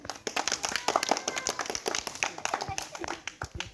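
A group of people claps in rapid, uneven applause after a puri-eating challenge, the bursts fairly close and continuous, with voices talking over the clapping.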